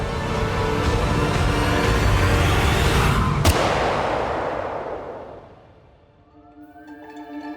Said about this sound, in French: Il y a eu un coup de feu.